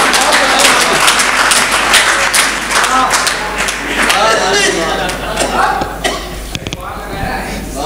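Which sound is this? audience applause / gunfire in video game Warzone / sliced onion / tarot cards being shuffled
audience applause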